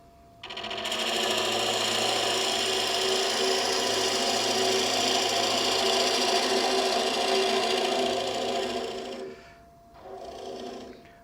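Lathe gouge cutting a small wooden nut bowl, a steady, loud, sustained scraping whir with a high tonal hum that runs about eight seconds, then drops away and briefly resumes.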